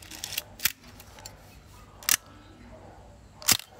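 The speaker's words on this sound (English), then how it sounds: "So to shoot, to fire the shutter, you're gonna press this button here." A Miranda Automex III film camera's shutter fires in bulb mode, making three crisp mechanical clicks spaced over a few seconds. The clicks are close and clear over quiet room tone, with small handling noises between them.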